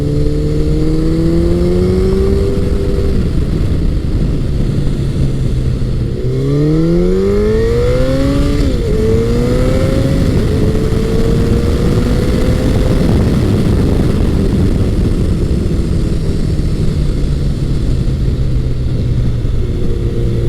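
A Honda CBR1100XX Blackbird motorcycle accelerates hard down a short straightaway, its engine climbing through rising, sweeping revs with a shift around the middle, loud and close over steady wind roar.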